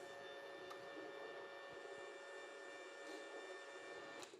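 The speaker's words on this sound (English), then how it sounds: "let's feed the wire through" The wire feed motor of an ArcCaptain 205 PRO MIG welder, set up for automotive work, pushes wire through the torch with a steady, close mechanical whir and hum that runs unbroken, with no talking.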